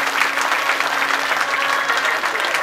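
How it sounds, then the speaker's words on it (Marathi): Devotional kirtan audience breaks into steady, dense applause, a continuous wash of many hands clapping close and loud throughout with no voices over it. "एकदा सतीसाठी प्रेमानं जोरदार टाळी वाजवा."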